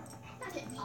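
A pet dog whimpers and yips faintly in a home setting, thin whiny cries rising toward the end over low room noise.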